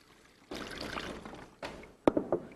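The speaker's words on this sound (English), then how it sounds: "Apple cider vinegar." Apple cider vinegar is poured into a pot holding beef brisket in short splashing bursts, a near, liquid trickle that stops and starts, with a few sharper sloshes near the end and no talk.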